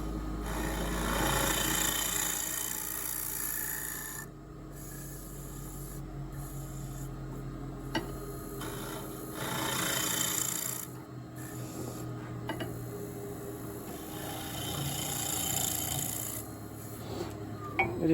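A hand scraper with a freshly sharpened edge shaves across wood in long, repeated rasping strokes, close and steady, with short gaps between passes.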